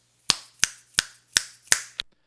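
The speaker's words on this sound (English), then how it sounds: "let's do some finger snaps" Six crisp finger snaps ring out one by one at a steady, unhurried pace, close and clear against near silence while a microphone is being tested, with a faint low hum beneath.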